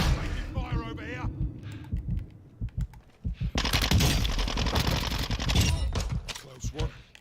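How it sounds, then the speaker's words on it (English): Video game gunfire breaks out in rapid, dense automatic bursts, loud and close, mixed with speech and clicking sounds. "Taking fire over here."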